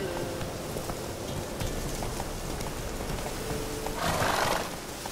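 Roach the horse in the game The Witcher 3 neighs while galloping, with a dense steady rush of hooves and movement noise throughout and a brighter whinny rising near the end.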